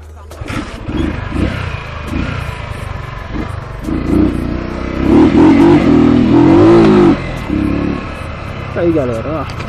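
Motorcycle revving in busy city traffic at night, a mid-pitched engine rising and falling in pitch as it accelerates nearby, with someone speaking over it.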